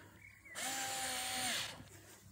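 A power driver sinking screws while a lidar robot mower's charging station is installed: one loud whirring burst of a little over a second, rising from quiet and cutting off abruptly, close by.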